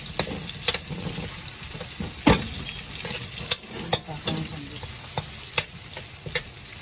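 Onions sautéing in a pan for pancit bihon, giving a crackling sizzle broken by frequent scraping stir strokes and sharp clicks from a utensil, close and moderately loud.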